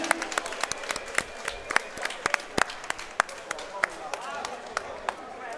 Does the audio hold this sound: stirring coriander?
no